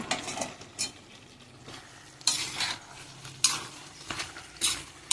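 Okra frying in hot oil for bendekayi gojju, with bursts of sizzling and crackle as it is stirred and scraped with a utensil in the pan, close and without talk.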